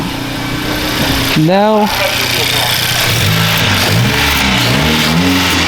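Honda Civic Sport Touring with a Borla S-Type exhaust idles with a deep steady drone, then gets one sharp rev that climbs and falls, then a few shorter throttle blips; someone speaks briefly over it.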